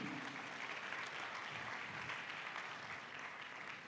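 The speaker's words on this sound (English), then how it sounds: "Let's clap for Bonnie." Faint but steady audience applause for an honoree at a college ceremony, a continuous even patter of many hands clapping throughout, heard from some distance.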